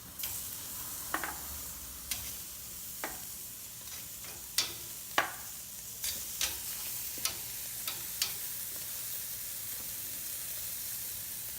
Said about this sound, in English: just to get a sear on both sides